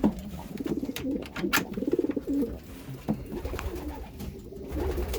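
Racing pigeons in a loft cooing close by, soft repeated throaty coos and burbles overlapping in uneven bursts, with faint rustling and bright clicks between them.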